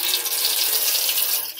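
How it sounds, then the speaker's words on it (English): A kitchen or bathroom tap runs steadily for handwashing, a bright, even hiss of water splashing into a sink, close and uninterrupted. "Let's begin by turning on the water."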